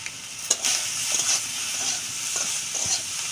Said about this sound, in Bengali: এখন আমি এই তেলের মধ্যে বেগুনগুলি দিয়ে দিচ্ছি।